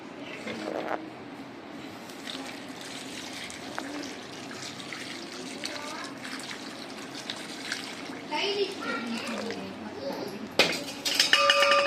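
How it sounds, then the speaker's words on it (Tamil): Potatoes are washed in hot water in a home kitchen, with steady running and trickling water, splashing, and occasional clinks of a pot or utensils that grow louder near the end. "லைட்டாக சுடு தண்ணியில் நல்லா வாஷ் பண்ணிக்கலாம்"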